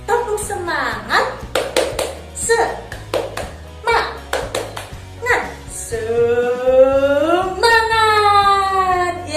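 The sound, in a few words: children doing a rhythmic clap chant (tepuk semangat)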